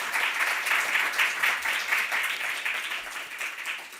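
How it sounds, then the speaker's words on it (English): Audience applause for a conference panel on prison education: dense, close clapping from a room full of people, sustained evenly for about four seconds before starting to fade at the end. "let's give a round of applause to our fourth panel"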